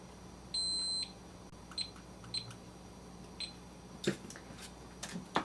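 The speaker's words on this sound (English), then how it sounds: "So we'll set our timer for 2 minutes." A kitchen timer being set for two minutes while mixing resin: a long steady beep, then several short button bleeps spaced apart, fairly quiet in a still room.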